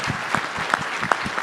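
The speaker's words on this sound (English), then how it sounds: "Let's give them a round of applause." Audience applause at an airport directors' business diversity forum, a short burst of clapping from a crowd in a hall.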